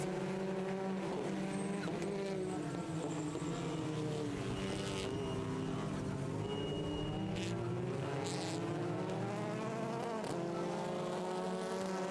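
Touring car engines from a TCR race at the Most circuit, including an Audi, drone continuously at a distance with whining, rising and falling pitch as the cars pass and accelerate away from a hairpin.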